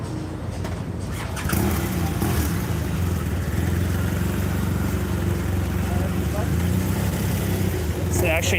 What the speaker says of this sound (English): It's actually an older motorcycle right now.